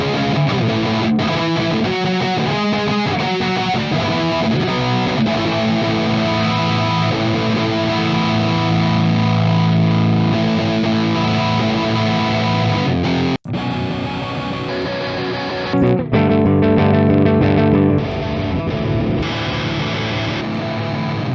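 Electric guitar through an IK ToneX rectifier amp model set for a 90s punk rock tone: loud, distorted strummed chords played continuously with a brief break partway through, up close with no talking.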